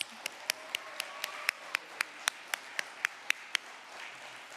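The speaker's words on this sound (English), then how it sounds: "Let's have another round of applause for all the films" Faint, steady rhythmic clapping from an audience at a film festival shorts screening Q&A: about fifteen sharp, evenly spaced claps that sound close together in time, with a soft room hum underneath.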